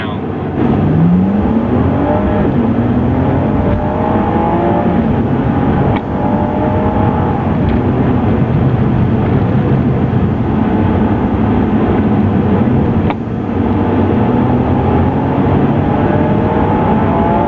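A Ferrari sports car, one of a California, 599 or 612, drives with its engine revving loudly and continuously, pitch rising and falling through gear changes, heard close from the cabin with occasional talk underneath.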